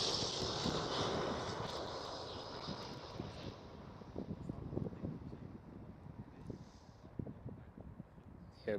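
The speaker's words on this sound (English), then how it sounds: "A319 is landing." An EasyJet Airbus A319 airliner landing at Amsterdam Schiphol, a distant engine roar fading gradually under wind buffeting, with faint talk.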